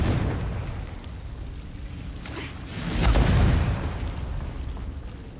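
A Confringo fire spell in Hogwarts Legacy goes off as a whooshing burst that swells into a deep, rumbling boom before fading into a low roar.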